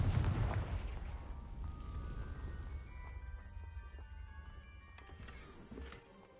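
Confringo fire spell in the Hogwarts Legacy video game, a big booming blast that opens loud and fades over several seconds into a low rumble, with faint sharper pops near the end.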